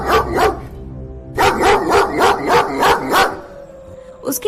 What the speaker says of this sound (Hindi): वो कुत्ता वहाँ से नहीं जाता है और भौंकता ही रहता है।